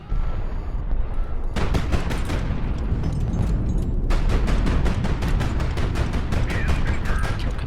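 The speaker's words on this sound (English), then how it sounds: "So missile launched." Missile launch and firing in the naval combat game HighFleet: a loud, sustained barrage of rapid booming shots and blasts rolls on continuously and close.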